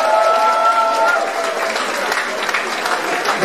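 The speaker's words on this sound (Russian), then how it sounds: "это достойно отдельных аплодисментов других." Audience applause for a sound engineer at a concert, steady dense clapping running throughout under a held musical tone at the start.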